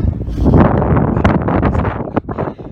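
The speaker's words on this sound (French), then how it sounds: "Là le vent souffle vraiment beaucoup." Strong wind on a steep hiking trail up Bugarach buffets the microphone in a loud, continuous roar, with gusty surges and rumbling low-end noise throughout.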